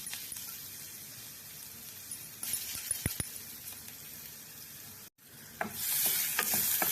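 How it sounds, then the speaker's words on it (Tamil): Finely chopped garlic sizzles quietly in hot melted butter for a mushroom masala gravy, with a steady crackle and a few sharp clinks of a spoon stirring the pan. "பட்டர் நல்லா காஞ்சிடுது. இதில் வந்து பொடியாக நறுக்குன்னு பூண்டு போட்டுடுவோம்"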